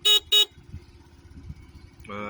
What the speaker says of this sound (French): Alors là, klaxon.